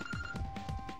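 A mobile phone rings during a recording, a faint repeating electronic ringtone with several quick pulses in just over a second.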